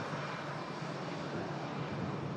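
Steady broadband roar of a Jet2 Boeing 757 jet at Manchester Airport during a storm, a constant engine rush with no breaks and no voices.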